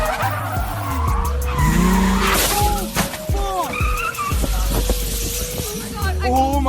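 Tyres squeal and skid loudly as a Porsche 911 supercar spins out, in several screeching sweeps over engine noise, with people talking and exclaiming throughout.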